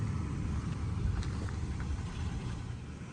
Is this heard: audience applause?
no